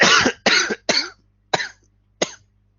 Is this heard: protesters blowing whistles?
no